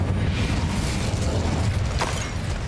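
Incendio fire spell cast in the Hogwarts Legacy video game, a dense roaring burst of flame with crackling rumble and a sharp whoosh near the end, loud and close with no speech.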